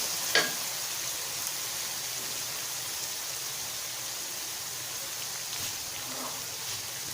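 Frozen chicken koftas go into a sizzling, oily masala: one brief clatter at the start, then a continuous, fairly loud hiss of frying with a faint later stir, nearby and without speech.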